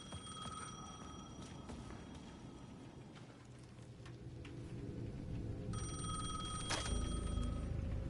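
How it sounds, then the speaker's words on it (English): A payphone in the video game Alan Wake II rings in two separate bursts, with a quiet gap between them, over a low rumbling background. "payphone at the edge of the plaza was ringing again"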